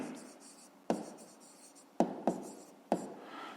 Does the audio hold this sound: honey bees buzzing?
no